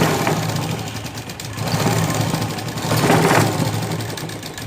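Sewing machine stitching along a fabric edge on the back part of a garment, a continuous loud mechanical whir with rhythmic needle chatter that swells and eases, no talking.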